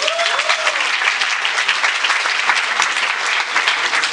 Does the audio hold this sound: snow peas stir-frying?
no